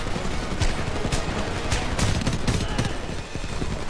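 Machine gun fire in the shooter Homefront rattles in rapid, dense bursts with sharp crackling shots, loud and close, continuing steadily through the clip.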